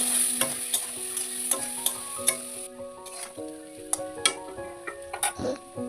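Potatoes fry with turmeric and salt in a pan for a fish curry with potato, a steady close sizzle broken by repeated sharp scrapes and taps of a stirring spoon, no voices.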